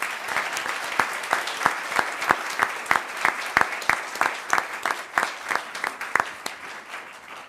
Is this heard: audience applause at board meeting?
yes